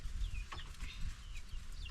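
Hens cluck softly against a low farmyard rumble, with faint bird chirps scattered through.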